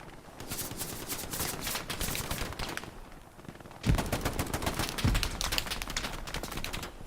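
Machine gun fire in a Battle of the Bulge multiplayer game at Elsenborn Ridge, with rapid sustained bursts rattling loudly and close, a short lull, then more heavy automatic fire with sharp impacts.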